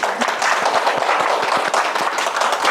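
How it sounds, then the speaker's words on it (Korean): Audience applause welcoming a lecturer to a nanochemistry science talk in Daejeon, brisk close clapping from a moderate crowd with sharp individual claps audible throughout. "박수로 맞이해주세요"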